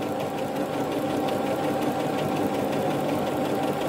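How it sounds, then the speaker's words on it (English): A sewing machine stitches a dart in fabric, a close, steady, rapid mechanical chatter running without a break and with no talking. "sew a straight line along the dart"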